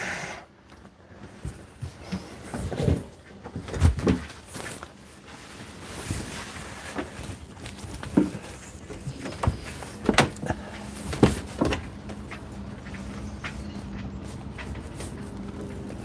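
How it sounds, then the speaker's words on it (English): Intermittent metallic clanks and knocks of rigging ropes against the mast of a neighbouring moored boat, driven by wind, irregular and moderately distant, over a low windy background. "it's the wind banging on the ropes on the boat next door, banging the ropes against the mast"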